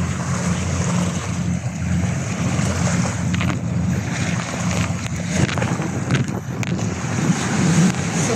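Waves washing on the seashore at Labrador Park in Singapore, a loud steady surf wash with wind buffeting the microphone throughout, no talking.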